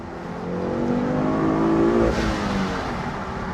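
A 2010 Ford Focus RS with a turbo engine and custom exhaust revs close by, a loud throaty drone that swells and climbs in pitch, then settles back to a steady hum.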